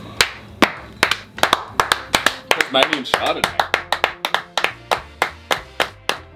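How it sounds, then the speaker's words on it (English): Steady, crisp hand claps repeat as a round of applause during a blind Chardonnay wine tasting, with people talking over the clapping. "Big round of applause."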